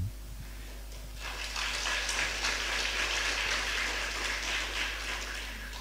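An audience at an Indonesian academic lecture on literacy breaks into applause, starting faintly and swelling into a steady, moderately distant wash of clapping under a low background hum.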